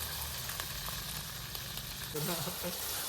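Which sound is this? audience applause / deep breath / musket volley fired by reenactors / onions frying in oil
onions frying in oil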